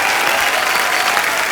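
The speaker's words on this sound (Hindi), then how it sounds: "जोरदार तालियां शबीना जी के लिए" A studio audience on a comedy show claps loudly for a guest poet, Shabina, producing a continuous, dense burst of close applause throughout.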